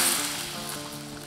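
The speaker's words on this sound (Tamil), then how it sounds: "இப்போ சாம்பார் கூட இந்த தாளிதத்தை சேர்த்திக்கலாங்க." Hot oil tempering of mustard seeds, urad dal and dried red chillies poured into a manathakkali greens sambar, producing a loud, continuous close-up sizzle and crackle.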